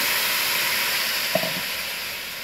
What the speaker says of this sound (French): I'm going to add this little bit of water.